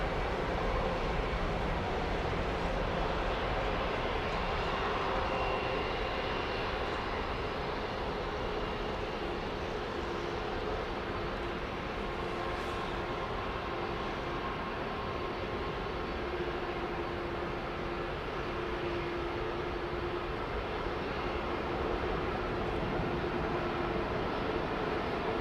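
A jet airliner climbs away from runway 09R at Heathrow Airport in the morning, its engine roar a broad, steady, loud rumble that holds without a break throughout.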